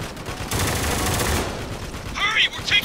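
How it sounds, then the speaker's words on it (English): Heavy gunfire in the war shooter game Spec Ops: The Line, a sustained dense burst of shots and rumble, then a shouted voice breaking in near the end. "We're taking heavy fire!"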